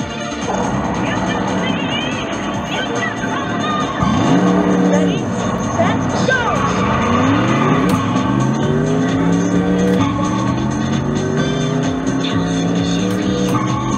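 Arcade race car driving in Cruis'n World, a 25-year-old Nintendo Midway machine: a steady engine roar rising and falling with gear changes, with tire screeches and crash thumps layered over game music.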